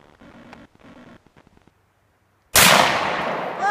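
A single loud shotgun blast fires outdoors, its sharp crack decaying into a long rumbling echo, after a few seconds of quiet with faint scattered sounds.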